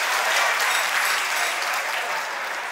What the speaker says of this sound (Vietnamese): tràng pháo tay thật lớn dành cho vũ đoàn của quý vị